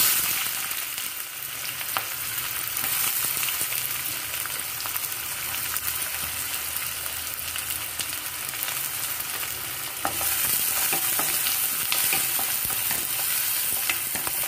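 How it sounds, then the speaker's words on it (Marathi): Finely chopped onion sizzles and crackles steadily in hot oil in a wok, with occasional stirring scrapes, loud and close throughout with no talking. "कांदा मस्त आपल्याला असं परतून घ्यायचा तेलामध्ये"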